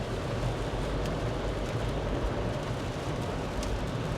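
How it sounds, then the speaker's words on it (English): Water gushing through the wheel well of a Proton X70 facelift SUV while driving, a dense, steady rushing wash of noise with no speech. "It's that sound, water gushing the wheel well."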